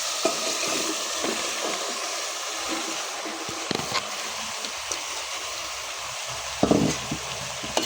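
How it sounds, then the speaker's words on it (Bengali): Potato and eggplant are stirred into a fish curry, with a constant frying hiss and a few scattered spatula knocks and scrapes, growing briefly louder toward the end. "এই যে আমি লাড়া দিয়ে দিচ্ছি"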